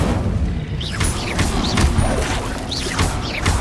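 Incendio fire spell casts in Hogwarts Legacy: repeated loud whooshing bursts and impacts in quick combat succession over a dense, noisy battle background, with occasional rising magical swishes.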